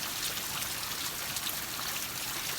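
Steady rain pouring down during a storm, a dense continuous hiss of drops with a trickling, running-water quality and no voices.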